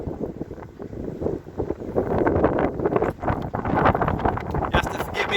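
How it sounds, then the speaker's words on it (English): Heavy wind buffets the microphone in loud, rumbling gusts throughout outside All Saints Church in Nailstone, with a voice partly audible beneath the roar. "You have to forgive me with the wind,"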